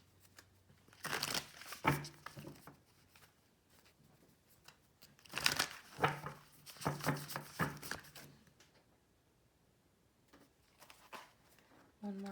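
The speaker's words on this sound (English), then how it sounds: "One more shuffle." Tarot cards shuffled by hand up close, in several crisp riffling bursts separated by quiet pauses.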